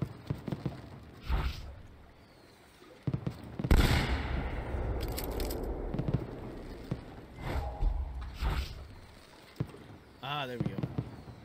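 Fireworks at a party in the video game Assassin's Creed 2, a series of sharp bangs and crackles scattered across the clip, mixed with game ambience and other effects.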